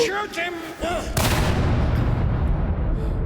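A burst of loud gunfire in the video game INDIKA erupts about a second in, with a sustained roaring blast afterward; brief voices and harmonic tones precede it.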